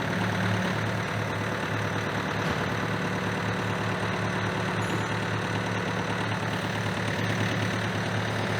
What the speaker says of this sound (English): I'll go ahead and start the tractor and back it up.